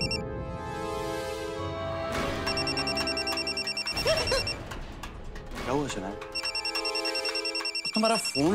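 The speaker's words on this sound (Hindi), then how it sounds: "तुम्हारा फोन कब से बज रहा है, उठा क्यों नहीं रहे" A phone rings with a repeating electronic ringtone melody, loud and close, over background music and a brief voice.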